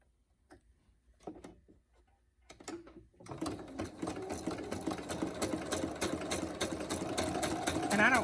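A sewing machine starts after a few quiet taps and settles into a steady, fast mechanical stitching rhythm, running continuously and close up to the end.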